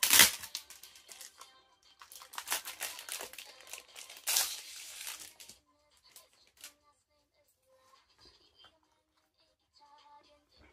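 Crinkly plastic wrap and cardboard packaging of an album being opened and unwrapped, with bursts of crackling and rustling in the first five seconds, then sparse small taps and handling noises.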